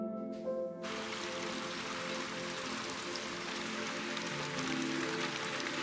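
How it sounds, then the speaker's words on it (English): Steady rain falling around a barn renovation in Piedmont, Italy, a constant dense hiss of drops on surfaces, even and continuous from start to finish. "So much rain, so much rain."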